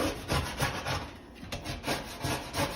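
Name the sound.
grime being scraped off inside an oven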